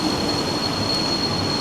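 A crowded commuter train at a station in Hyogo, Japan, on a rainy day: a loud, close, steady rumble of the cars with a sustained high wheel squeal over it, briefly and without talk.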